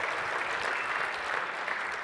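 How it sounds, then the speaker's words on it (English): A keynote-room audience claps continuously and evenly, a full dense wash of applause, close and loud with no talk over it. "give yourselves a round of applause for being in the room"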